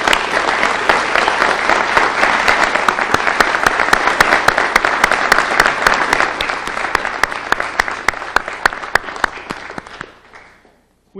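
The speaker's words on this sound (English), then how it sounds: "Let's give them another round of applause." An indoor audience at a public safety launch event claps steadily for about ten seconds, a loud, dense round of applause that fades out near the end.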